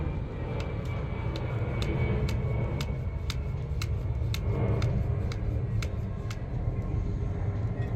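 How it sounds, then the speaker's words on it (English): An airplane passes overhead near an airport, its broad engine roar steady and fairly loud throughout, with a faint regular ticking in the background. "Sorry about the airplane, guys. We live near the airport."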